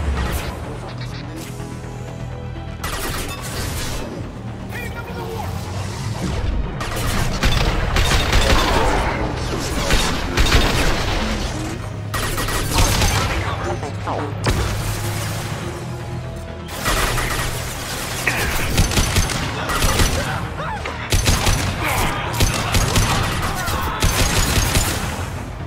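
Rapid sci-fi gunfire in Mass Effect 2 combat, with dense overlapping bursts and impacts mixed with music and brief callout voices, loud and continuous throughout.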